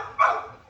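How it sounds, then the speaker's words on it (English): A single sharp bark from a dog, close and fairly loud, with no other sounds around it. "This dog getting on my nerve, man."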